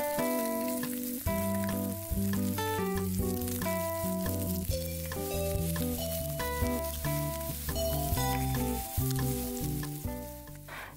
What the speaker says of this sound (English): Heat a pan with little oil and put spam in. We will stir fry it until golden brown on each side.